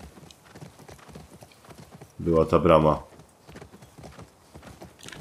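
Horse hooves clip-clopping in the video game The Last of Us Part II, a short burst of brisk close hoofbeats rising out of quiet game ambience, with a person talking around it.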